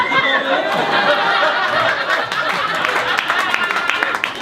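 Wedding guests at a yurt camp in Devon clap together in sustained, dense applause with scattered laughter and chatter, filling the space for the whole stretch.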